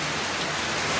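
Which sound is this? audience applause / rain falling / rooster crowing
rain falling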